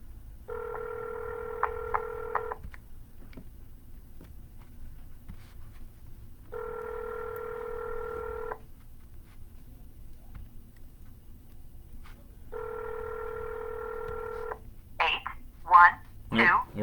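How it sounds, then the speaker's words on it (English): A phone dialer used for cold-calling real estate leads gives three steady, even electronic tones of about two seconds each, evenly spaced, followed by a few short sharp clicks at the end. "Looks like I might have to reset the dialer here."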